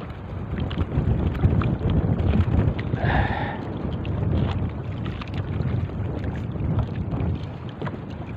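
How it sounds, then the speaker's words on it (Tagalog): Strong wind roars across the microphone aboard a small fishing boat at sea during traditional handline fishing, a loud continuous gusting rumble with water sloshing underneath. "Lumalakas na talaga ang hangin"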